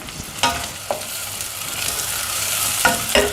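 Shallots and garlic sauté in hot oil with mustard seeds and fenugreek, a close, steady sizzle broken by a few sharp stirring scrapes of a spoon in the pan.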